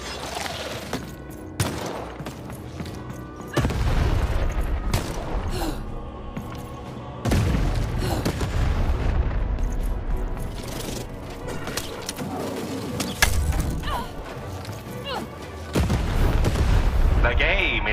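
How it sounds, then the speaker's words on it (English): Repeated heavy booms of cannon fire in the video game Lost in Random, several bursts spaced a few seconds apart, loud and rumbling. "the button to fire the cannon."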